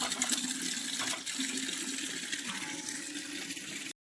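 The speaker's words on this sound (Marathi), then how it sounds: "आजी पाणी भरतीये" Water gushing from a village tap under strong pressure as a grandmother fills water, a steady rushing splash that runs without pause, then cuts off abruptly.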